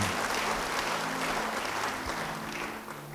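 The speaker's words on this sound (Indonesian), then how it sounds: "Yang setuju beri tepuk tangan bagi dia." Congregation in a church clapping in sustained applause, a dense, steady wash of claps that fades slightly toward the end.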